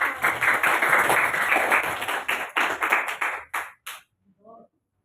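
Children in a classroom clap hands together, a lively burst of many claps that breaks into a few scattered final claps and stops, followed by a brief voice.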